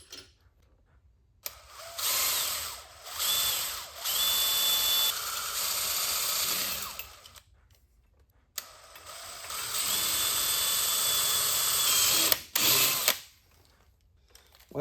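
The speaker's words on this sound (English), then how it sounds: "We're just going to drill a hole and see what happens." A power drill bores a hole through a Yamaha Tenere 700 motorcycle foot peg, two long whining runs separated by a short pause, with the motor pitch shifting as the bit bites into the metal.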